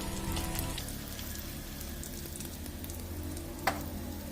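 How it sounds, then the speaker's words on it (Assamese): Onions fry in a pan on a gas stove over low heat with a steady crackling sizzle. A low hum fades early, and one sharp clink of a utensil comes near the end. "তাৰপিছত এতিয়া পিঁয়াজটো অলপ ৰঙা হ'বলৈ দিছোঁ"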